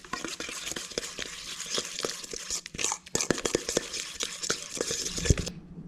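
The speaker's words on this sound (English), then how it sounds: "Now we're going to mix all this crap together." Crab cake ingredients with mayonnaise and chopped parsley are stirred and mashed together in a bowl, giving close, irregular wet clicks, scrapes and squelches over several seconds.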